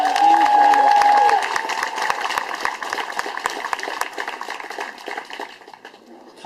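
A crowd claps and cheers for award winners at an outdoor staff picnic by Boulder Reservoir, with brisk, steady applause that thins out toward the end and a loud whistle near the start.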